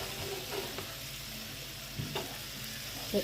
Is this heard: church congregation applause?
no